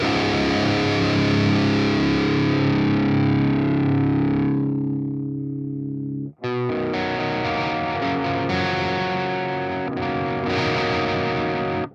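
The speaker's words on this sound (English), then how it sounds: "So even at like the lowest gain setting, this is still a crunchy amp." An electric guitar plays through an amp plugin at its lowest gain setting, a mildly crunchy tone, a sustained chord fading out, a brief pause, then more chords ringing with slight distortion.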